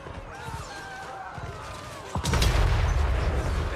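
An artillery cannon in Total War Warhammer III fires with a sudden heavy boom, followed by a sustained rumbling roar of battle noise after a stretch of quieter ambient sound.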